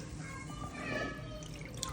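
Soaked rice is washed in water, with faint drips and light sloshing from close by at low volume.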